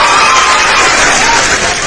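A crowd at a live religious debate in Indonesia breaks into loud, dense applause and cheering, a close, continuous roar filling the whole moment.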